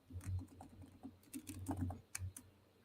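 Typing on a computer keyboard, a quick irregular patter of soft keystrokes at low level, heard alone.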